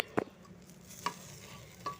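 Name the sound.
rice being fried and stirred for khichdi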